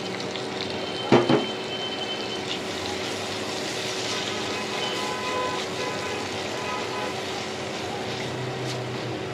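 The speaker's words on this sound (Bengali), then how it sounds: "এখন আমি মশলাগুলো কষিয়ে নেব" Spices and cubed tomatoes sauté in hot oil for a magur catfish curry, a steady close sizzle and hiss with a couple of brief clanks of stirring near the start.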